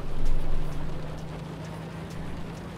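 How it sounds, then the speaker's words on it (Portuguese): Steady hissing rain falls in the video game Cyberpunk 2077, a dense, even wash of sound over a low constant hum, with no one speaking. "Tá chovendo."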